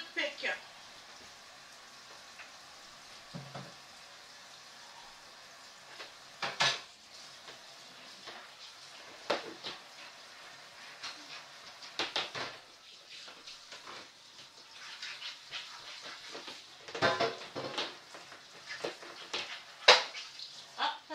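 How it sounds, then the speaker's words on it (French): Washing a cooking plate and a knife under hot running water in a home kitchen: a soft steady wash of water with intermittent clinks and knocks of metal and dishes, while someone talks quietly at times. "je vais laver ma plaque. Et mon couteau. Donc de l'eau chaude parce que comme c'est de l'huile"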